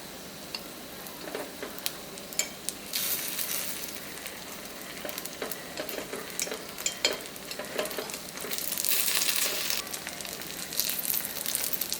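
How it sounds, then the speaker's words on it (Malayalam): Appam sizzles on a hot griddle over a low simmering flame as it is flipped, a steady close crackle of frying with a few sharper ticks and a brief louder hiss near the end, no talking. "ഇനി നമുക്ക് അപ്പം മറിച്ചിട്ട് കൊടുക്കാം"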